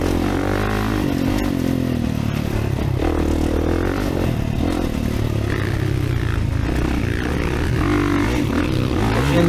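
A 2024 Kawasaki KX450 motocross bike rides the Eugene MX track, its engine roaring continuously and loudly as it revs and drops, with dirt clatter and scraping mixed in.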